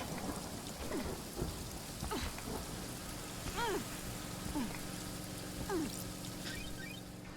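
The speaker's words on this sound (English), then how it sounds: "Rain again." Steady rainfall in the video game Paradise Killer, a constant hiss of drops with low rumbling beneath. A few brief chirping or squeaking calls stand out at intervals over the rain.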